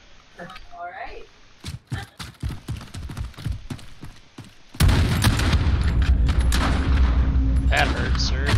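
EBR rifle fire in a video game starts as spaced, sharp shots under talking, then gives way to a sudden loud, sustained barrage of gunfire and booms.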